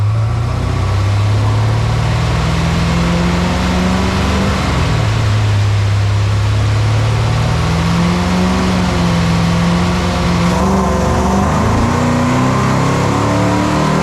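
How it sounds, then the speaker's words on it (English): A 1967 Corvette with a 427 V8 roars on a dyno, loud and continuous, its pitch sweeping up and down through repeated revs before dropping back and climbing again. "so I butchered the dyno settings, and the dyno shut it off at about 5750"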